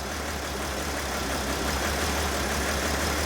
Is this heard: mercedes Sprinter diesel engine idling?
yes